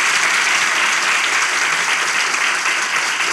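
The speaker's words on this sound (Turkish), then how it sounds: "alkışlarla başlıyor" A theater audience at a live relationship-test show breaks into steady, dense applause that holds loud and continuous throughout, with no voices over it.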